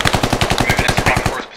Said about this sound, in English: Open fire if necessary.